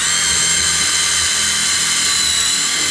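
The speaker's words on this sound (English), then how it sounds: "What you're going to do is you're going to drill in straight." Power drill reaming an 11/64 hole in a garage, a loud, steady high-pitched whine with constant motor drone throughout and no talk.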